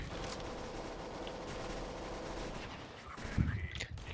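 Pistol gunshots in the game CS:GO during a deathmatch, dense crackling gunfire that carries on steadily with a louder burst near the end and no talk over it.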